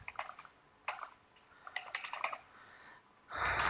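Fingers type code on a computer keyboard in quick bursts of light clicking keystrokes with short pauses between, faint and close, ending with a louder rustle or thump.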